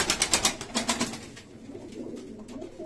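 Pet pigeons coo in a loft, a burst of close, rhythmic pulsing calls at first, then softer, fainter cooing and rustling carrying on without any talk.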